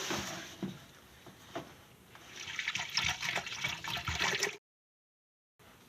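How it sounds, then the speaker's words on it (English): Milk pours into an Instant Pot as a steady, splashing trickle that builds in intensity before cutting off abruptly, then resumes faintly after a short silence. "let's go ahead and pour our milk into the Instant Pot to get it going"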